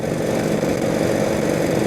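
A 1948 Indian motorcycle with a flathead engine runs in a steady, loud, unbroken drone, close by, with a rough low rumble and airy noise throughout.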